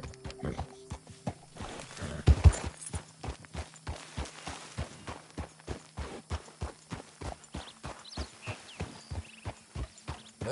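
A horse walks with steady, evenly spaced hoof clip-clops close by, the rhythmic strikes running throughout with a brief louder scuffle near the start.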